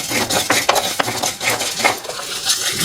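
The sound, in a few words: cumin and fenugreek being dry-roasted and stirred in a pan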